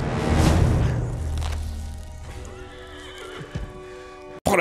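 A horse neighs loudly up close, followed by hooves clip-clopping and a sharp clatter at the end, in a fantasy TV series scene.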